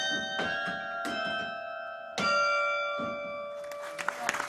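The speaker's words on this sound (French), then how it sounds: "les 36 cloches du beffroi de Béthune vont à nouveau chanter dans une parfaite harmonie" Carillon of the 36 bells in the Béthune belfry rings a slow melody, clear struck tones with long ringing overtones, one new note about every second, with a brighter flurry of quick notes near the end.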